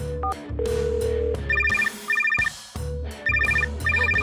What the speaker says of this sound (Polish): Słyszę, że dzwoni.